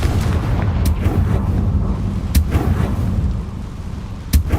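A Confringo explosive spell cast in Hogwarts Legacy produces three sharp, loud booms spaced a second or two apart over a low, rumbling background.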